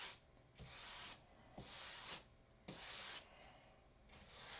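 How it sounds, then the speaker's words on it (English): Rhythmic hand sanding of a wooden model stunt plane: several steady back-and-forth rasping strokes, close and fairly quiet, with short pauses between them. "You want to sand this real good while it's in the buck."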